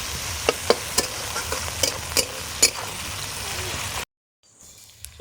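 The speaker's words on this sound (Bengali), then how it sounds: "চলুন পেঁয়াজটা লাল লাল করে ভাজা হয়।" Chopped onions and chillies fry in a pan while being stirred, a soft sizzle underneath sharp scraping clicks of the utensil for about four seconds before the sound cuts off.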